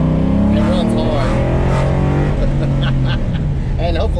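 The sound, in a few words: Ford Coyote engine in 1980 Chevy truck driving hard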